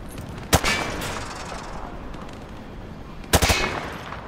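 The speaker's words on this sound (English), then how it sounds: "He sprayed bullets all over the damn place." Hip-fire gunfire from a weapon in Call of Duty: Modern Warfare 2 Remastered, two sharp loud bursts of rapid shots about three seconds apart over a low background rumble, with no talking.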